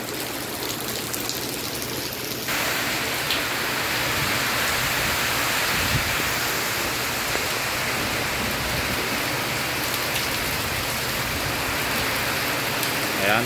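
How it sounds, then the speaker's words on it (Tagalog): Heavy typhoon rain pours down in a dense, steady roar while strong wind gusts sweep through, loud and continuous throughout. "Ayan, at tumatakbong hangin ngayon at ulan."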